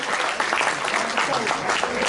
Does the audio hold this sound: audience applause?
yes